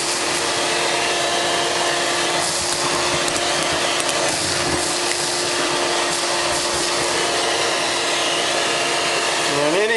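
A vacuum cleaner runs steadily and loudly, sucking gnats and flies off the top screen of a Worm Inn Mega worm bin, a constant broadband whoosh with a steady tone throughout.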